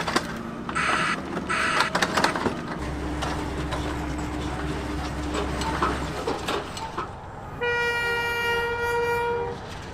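A ballast train rumbles past near Rylstone Station with heavy rolling wagons and a low drone, then a loud sustained horn blast sounds near the end.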